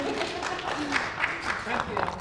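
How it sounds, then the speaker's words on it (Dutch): Audience applause at an architecture lecture, a steady patter of clapping hands from a moderate crowd lasting a couple of seconds. "Een groot applaus."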